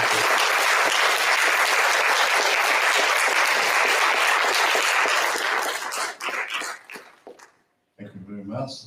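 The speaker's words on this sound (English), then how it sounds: "big applause for that" Loud, sustained applause from an academic mathematics conference audience, dense clapping that thins and fades out near the end, followed by a brief burst of voices.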